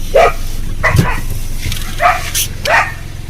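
Several dogs at a farmhouse bark in short, scattered yaps, nearby and fairly loud, with no talking.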